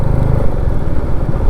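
A motorcycle cruises along a highway on a road trip from Kolkata to Siliguri, its engine a loud, continuous close-up drone mixed with wind and road roar, no voices.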